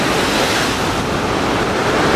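Sea waves surging against a sea wall at high tide on the beach at Burnham-on-Sea, Somerset, forming a loud, continuous rushing roar of surf with no voices.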